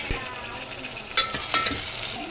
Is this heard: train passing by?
no